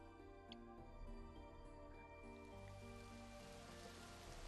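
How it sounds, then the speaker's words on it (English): Rain spattering on the ground in the video game Psychedelica of the Black Butterfly, a steady soft patter under sustained musical tones, with no talking. "Large droplets of rain must be spattering on the ground."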